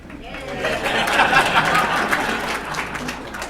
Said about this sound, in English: All the senior citizens, give yourselves a round of applause.